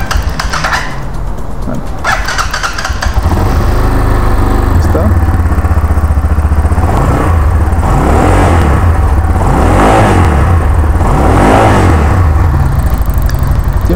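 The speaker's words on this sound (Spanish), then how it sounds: "sonido de motocicleta es ronco, como una 250" The 250cc engine of an IGM Café Racer motorcycle from 2024 idles with a throaty, rough rumble and is then revved repeatedly in a series of rising and falling bursts, loud and close throughout.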